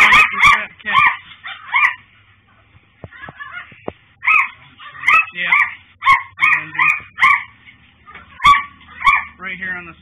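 Puppies barking and whimpering in a police bodycam setting, repeated loud yips and high whines in bursts close by, with a voice speaking between them.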